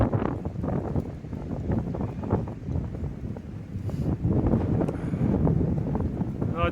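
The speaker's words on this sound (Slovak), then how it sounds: "Tak to nejako fúka, neviem, či to vidíte" Strong wind gusts buffet the microphone during an outdoor run, producing loud, rough, rumbling blasts that swell and fade unevenly throughout.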